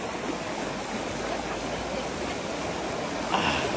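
Steady rushing of flowing river water, a continuous broadband wash close by with no voices.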